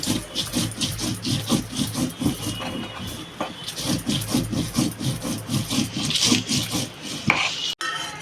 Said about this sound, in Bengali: শিলনোড়াতে মশলাটা ভাবলাম একটু পাটি